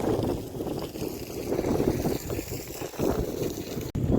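Gusty, stormy wind blows across open ground in the Sundarbans under a cloudy sky. A steady, loud buffeting roar rushes and swells in waves, with a brief drop near the end.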